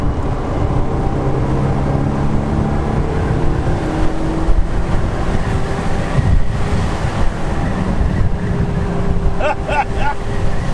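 A Lotus convertible with a four-cylinder engine cruising off boost, its steady low drone mixed with heavy wind buffeting from the open top, with a voice speaking over it at times.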